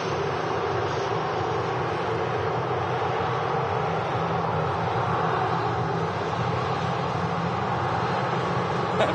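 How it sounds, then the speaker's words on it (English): A Ryanair Boeing 737-800 touching down at Manchester Airport, a steady, broad engine roar that holds loud and unbroken throughout, heard from a distance with no talking. "Ryanairs 737 800 series. Touching down."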